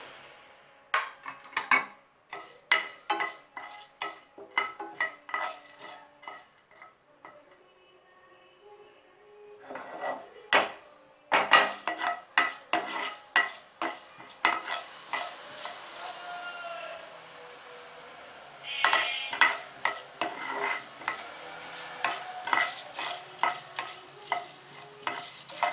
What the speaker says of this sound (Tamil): இப்போது உளுந்தம்பருப்பு போடுறோம்.